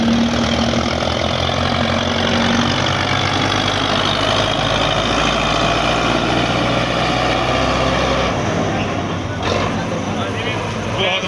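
A tractor engine, likely a Belarus model, runs on a road near a loaded trailer, giving a steady, loud, low idling rumble with a slight knock. It stays constant throughout, and its low tone shifts near the end.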